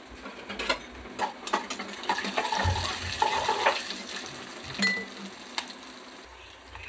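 Green chillies and curry leaves fry in oil with peanuts and chana dal, giving a sizzling crackle and intermittent stirring clatter close by, with no one talking.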